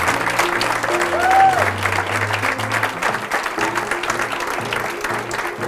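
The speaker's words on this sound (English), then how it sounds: "Round of applause for our retirees." Applause for retirees fills a retirement reception for the Boulder Valley School District, a full, sustained wash of clapping from a large room, with a low musical hum and a brief whistle-like tone underneath.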